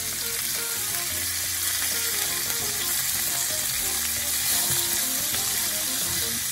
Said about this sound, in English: They should have a nice sear on the bottom.